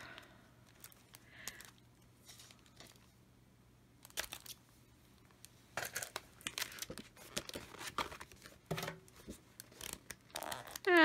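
A small 6x6 pad of dollar-store craft paper is opened with scattered crinkles, tears and rustles. The bursts come in short irregular clusters against a quiet room and grow busier toward the end.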